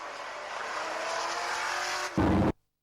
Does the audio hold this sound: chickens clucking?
no